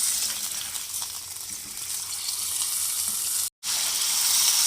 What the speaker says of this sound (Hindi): चिकन को आपने तकरीबन 5 मिनट तेज़ आंच पे फ्राई करना है